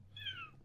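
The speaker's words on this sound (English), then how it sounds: "She doesn't meow very much" A little gray kitten with a wonky eye gives a single soft, drawn-out meow, close by and faint, over a low steady hum from projectors.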